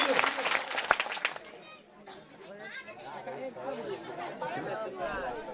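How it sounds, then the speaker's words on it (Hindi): Crowd at a panchayat inauguration ceremony breaks into loud chatter and scattered clapping, a dense burst early that thins into busy murmuring voices across the whole stretch. "एक बार जोरदार ताली भैया के लिए।"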